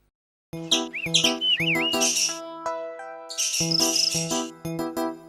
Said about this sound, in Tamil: அங்க ஒரு மீன் கொத்தி பறவை அழுவுது